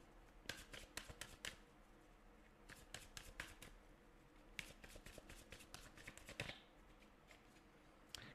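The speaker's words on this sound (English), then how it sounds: "Let's also pull some cards from this oracle deck." A deck of oracle cards being shuffled and drawn makes soft, close riffling snaps and flicks in irregular bursts, quiet and with no talking.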